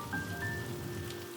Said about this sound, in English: the steady rhythm of raindrops provides a melody of calm